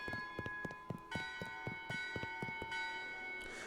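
Cathedral bells ring in the video game Shadows Over Loathing, a steady series of bright metallic strikes with long sustained ringing tones layered over each other, moderately loud and without any talk.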